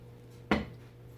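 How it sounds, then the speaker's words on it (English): A single knife chop cuts through bread on a board, a short crisp thud with a brief crunchy tail as the loaf is roughly cubed for bread pudding, with a faint hum behind it. "just cut our bread in cubes"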